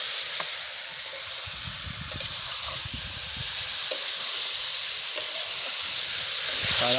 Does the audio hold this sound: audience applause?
no